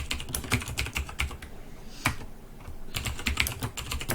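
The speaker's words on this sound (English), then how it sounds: "I'm sorry for my loud keyboard" Rapid clacking keystrokes on a loud gaming keyboard, close and crisp, in bursts with a short pause midway before the typing resumes, no voices.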